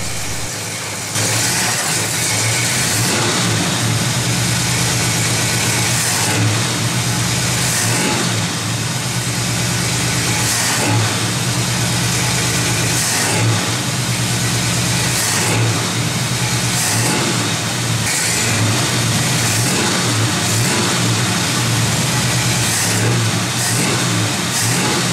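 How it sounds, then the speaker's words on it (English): Car engine fitted with a Rochester 2-barrel carburetor and a faulty accelerator pump, revved repeatedly by hand on the throttle, loud and close with rising and falling surges over a steady idle, no talking. "let's just give a few more whacks at the throttle and see how it does"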